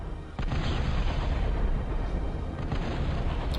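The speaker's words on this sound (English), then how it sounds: "I'm just demonstrating its plasma cannons. As you can see, that's a pretty decent rate of fire." Plasma cannons fire in the strategy game Total Annihilation, a continuous heavy rumbling barrage with repeated booming shots over a low roar, steady and loud throughout with no voices.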